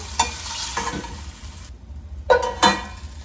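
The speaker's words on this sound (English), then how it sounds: "let me just mix this now" Lentil soup being stirred in a pot, giving soft scraping and sloshing strokes in an irregular rhythm, with a few brighter clinks of the spoon against the pot near the end.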